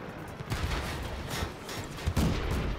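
Tank cannon shots and battle noise from the game World of Tanks, a couple of heavy booming reports over steady rumbling combat ambience, with no voices over them.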